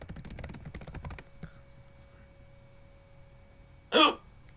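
A single sharp, loud hiccup from a gamer casting a Littlewargame match, near the end after a burst of keyboard typing and a quiet stretch.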